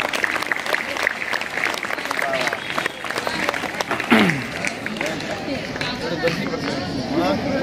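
An audience at a school celebration for Swami Vivekananda and Rajmata Jijau jayanti claps loudly and continuously, a dense sustained round of applause with crowd murmur beneath.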